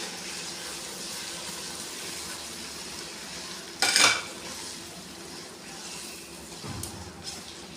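Chicken pieces dropped into a pan for a chicken, potato and spinach dish, with steady background sizzle and a sharp clatter of utensils against cookware partway through.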